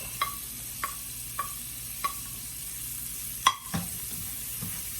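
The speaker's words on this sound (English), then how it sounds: "So we'll just give those a quick saute. We don't want them to burn." Garlic sautés in leftover bacon drippings in a pan, with a series of sharp utensil taps and scrapes against the pan roughly every half second over a low background sizzle, followed by a louder clatter near the end.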